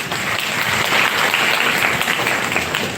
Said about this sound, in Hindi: इन 5 लोगों की ताली बजाई जाए।